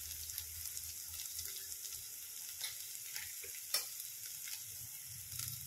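Green chili thecha and turmeric roasting in a pan for a village-style brinjal bharit, a faint steady hiss of frying with soft occasional scrapes of stirring and a single small click, no talk.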